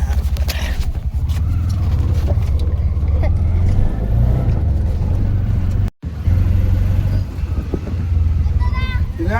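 A vehicle drives along with a loud, steady low engine rumble running throughout, broken only by a brief cut, while people talk over it.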